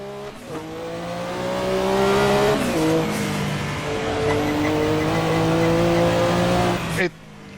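A Group C race car in a VR racing game, loud engine droning and rising through gears with shifts, tire noise beneath, then an abrupt cut near the end.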